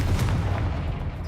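A Confringo spell explodes in Hogwarts Legacy: a single close, low, rumbling boom that fades over about a second.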